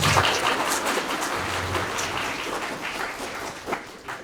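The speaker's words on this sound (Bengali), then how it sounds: "আপনাদের জন্য একটি জোরে করতালি দেওয়ার জন্য দেখব কত সাউন্ড হয়" A student audience in a hall breaks into loud, sustained applause at a motivational talk, a dense wash of clapping that starts strong and slowly thins over several seconds.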